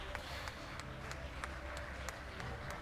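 Spectators at the 2019 European Open bench press championships clap in a steady rhythm as lifters leave the stage. The clapping is faint and distant, with evenly spaced claps under a low murmur of talk.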